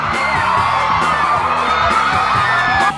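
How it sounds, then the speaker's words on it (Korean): A studio audience at a televised singing competition finale cheers, whoops and applauds loudly and continuously, a dense crowd roar that swells throughout. "큰 박수로 환영해 주세요."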